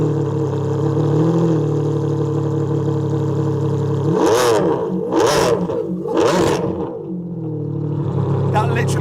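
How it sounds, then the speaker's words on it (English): A straight-piped Ferrari Enzo idles with a deep, loud rumble, then blasts through three sharp, rising revs in quick succession before settling back to a throaty idle. "I promise you guys I'll let you hear it start."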